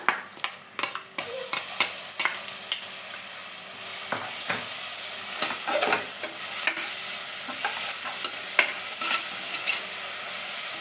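Ginger garlic paste sizzling loudly in a hot pan as it is stirred, with scraping spoon strokes over a continuous close fry and hiss.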